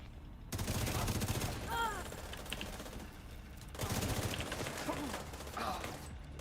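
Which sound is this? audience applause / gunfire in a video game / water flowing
gunfire in a video game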